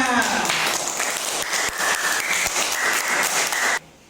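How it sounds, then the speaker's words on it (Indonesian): Schoolchildren in a classroom applaud a classmate with brisk, lively clapping mixed with young voices, which stops abruptly near the end. "Beri tepuk tangan untuk temannya"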